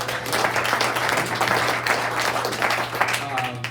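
People at a community meeting applaud themselves, a short burst of clapping from a modest group with a few voices mixed in and a steady low hum underneath.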